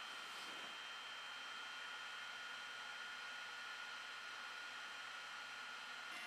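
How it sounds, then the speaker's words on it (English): A steady whirring fan hum from a Snapmaker V1 3D printer's cooling fan, with a faint broadband hiss, constant and unchanging throughout, fairly quiet and close. "This is just the fan noise."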